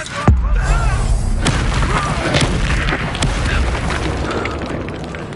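An Incendio fire spell erupts in Hogwarts Legacy with a sharp, loud boom, followed by a sustained roaring, crackling blast and a few further bursts over the game's ambience.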